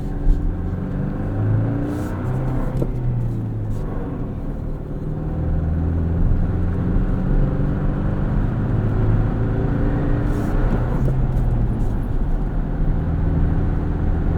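A 2024 Toyota Tacoma with a 2.4 turbo engine and 6-speed manual drives along, its engine droning and swelling under load with steady road and wind noise throughout, no talking.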